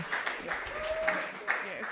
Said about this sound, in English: Let us give a warm round of applause to Mr. Rotimi as we welcome him to the stage